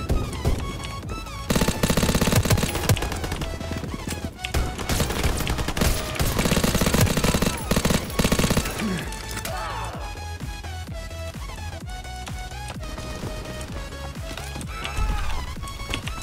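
Call of Duty: WWII gameplay gunfire: long bursts of rapid automatic weapon fire, loud and dense, broken by short pauses and scattered single shots, with game effects and music tones underneath.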